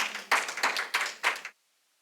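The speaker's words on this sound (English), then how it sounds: "Let's applaud him." Applause at a school of music and media conference after a presentation, heard as a short burst of several sharp clustered claps from a small audience, ending abruptly into silence.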